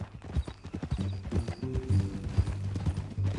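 Horse hooves clip-clop at a steady walking rhythm in Red Dead Redemption 2, close and fairly quiet, with a faint whinny-like tone over the plodding steps.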